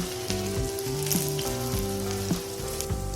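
Suji vada sizzle steadily in hot oil, a dense, even frying hiss with bubbling pops throughout, close and loud with no talking.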